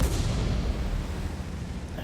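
Tank cannon fire in the World of Tanks video game, with an E75 in battle: a dense, continuous low rumble of booming gunfire and explosions, loud and steady throughout without distinct gaps.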